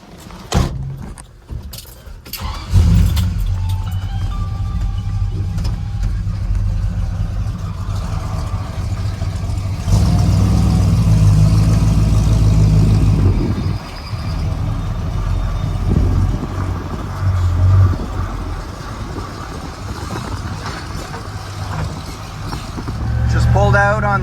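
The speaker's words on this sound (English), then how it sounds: "Pulled out on the highway right now. Third gear, we're up to 40 miles an hour." A 1950 Fargo truck, recently fitted with a Ford rear end, idles, then pulls onto a highway and accelerates through the gears, its engine rumble rising and dropping near and loud from inside the cab.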